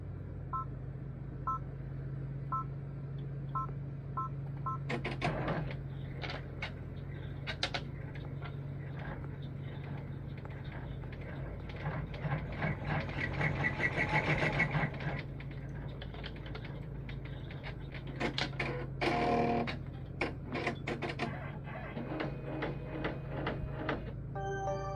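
An embroidery machine sews a placement stitch for a reindeer's red nose on a scarf ornament, its needle ticking in fast, even mechanical bursts with a few short beeps, fairly quiet and steady with no talk.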